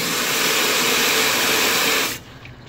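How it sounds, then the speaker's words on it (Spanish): Water pours and drains steadily from the body of a 2002 Chrysler Voyager, a loud, close, continuous hissing rush that cuts off abruptly near the end, leaving a faint background. "El agua está circulando perfectamente."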